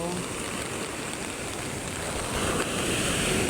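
Steady broadband wash of surf near Fortune Island, continuous and fairly loud, with a hiss like large waves breaking and rolling in, swelling slightly toward the end.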